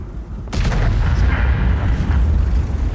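A heavy tank cannon blast from a Char Mle. 75 in a video game booms suddenly, followed by a rumbling, roaring tail of explosive noise.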